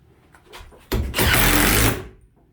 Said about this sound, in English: I'm just going to get the rest of my screws out.